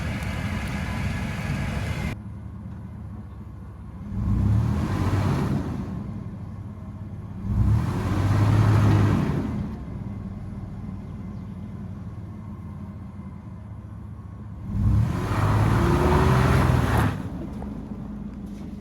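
An AWD van stuck off-road revs its engine in three separate bursts, each a deep rising rumble that swells and then drops back to a low idle between attempts.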